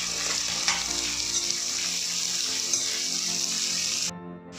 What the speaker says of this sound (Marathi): कांदा बारीक चिरलेला, कोबी उभा बारीक चिरलेला आणि ह्या भाज्या सगळ्या व्यवस्थित शिजवून घ्यायच्या आहेत